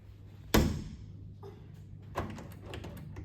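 A hotel room door at the Radisson Blu in Guwahati opens with one loud, close clack that rings out briefly, followed by a softer click and light rattling over a steady low room hum.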